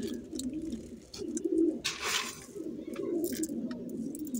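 Pigeons being fed beans and lentils coo in soft, repeated low calls at close range. A brief louder rustling noise breaks in between the coos.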